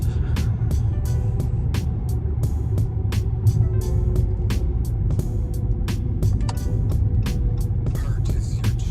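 A car drives steadily along a road during an early morning commute, a continuous low engine and road rumble holding even throughout, with faint repeated clicks, likely a turn signal, ticking over the drone.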